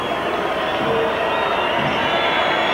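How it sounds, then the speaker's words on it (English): A rugby league crowd at a 1996 Paris versus Leeds match gives a steady wash of cheering and noise, loud and continuous for the whole stretch. "Crowd doing their best."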